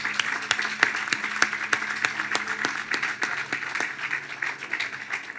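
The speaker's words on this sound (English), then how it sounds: "Let's give them a round of applause" An outdoor audience at the Caltrain electrification groundbreaking ceremony gives a round of applause, steady clapping with sharp individual claps standing out that slowly thins toward the end.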